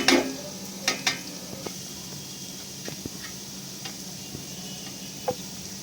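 Vegetables for veg fried rice fry lightly in a pan, a faint steady sizzle broken by a few light clicks and taps of a utensil against the cookware.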